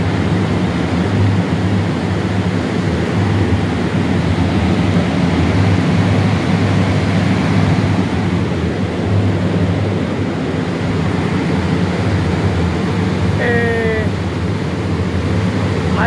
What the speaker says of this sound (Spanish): Esto tiene dos abanicos que sacan el calor del agua.